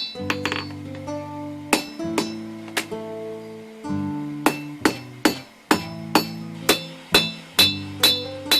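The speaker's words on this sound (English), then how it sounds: "The steel becomes longer and thinner once you start hammering it, and that's what we want." Steel being hammered to forge a Finnish puukko knife blade: a steady series of about a dozen loud, ringing metallic blows, evenly paced and close, each leaving a bright ringing decay.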